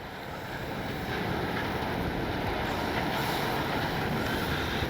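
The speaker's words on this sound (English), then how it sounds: "Oh man, that wind." Strong, steady wind roars and buffets the microphone outdoors at an RC flying field where an E-flite Piper Cherokee model plane is being flown, a continuous broadband rush filling the whole stretch with no talk.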